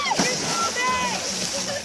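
Splash and sloshing water at a beach as someone jumps in, a brief burst near the start followed by continuing watery churn, with people talking and shouting over it.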